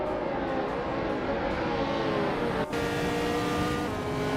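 A 1966 McLaren M10A race car engine drones at a steady high pitch, loud and continuous, with a brief dip partway through, and no voices can be heard.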